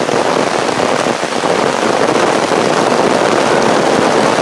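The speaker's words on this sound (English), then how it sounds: "Looks like we got us a little bit of rain happening" Rain begins falling during a humid suburban hike: a steady, dense hiss of drops on surfaces that stays loud and even throughout, with no voices.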